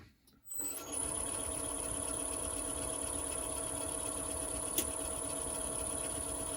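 A 1/2 inch bowl gouge cuts yew wood spinning on a lathe, a continuous rough scraping hiss with a steady hum underneath, starting after a brief quiet moment and holding at an even level.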